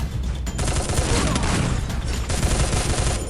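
Sustained, loud automatic gunfire in the Free Fire video game rattles densely and continuously, with no talk over it.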